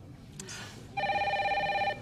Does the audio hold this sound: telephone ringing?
yes